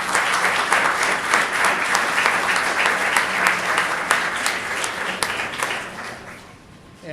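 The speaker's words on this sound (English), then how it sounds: "And I'd like to give them a round of applause." Lecture audience giving a steady round of applause at an architecture talk on museum projects, dense, even clapping that holds for several seconds and then tapers slightly near the end.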